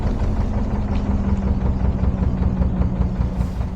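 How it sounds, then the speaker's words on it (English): A boat's engine idles steadily as it warms up before casting off, a constant low throbbing hum with a faint knocking pulse and no talk. "So with the engine warming up, the tiller in place"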